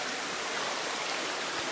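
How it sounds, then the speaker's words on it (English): Steady broadband rush of a real waterfall, heard close up by a swimmer in the pool beneath it; constant roar with no breaks and no voices. "This is a real waterfall."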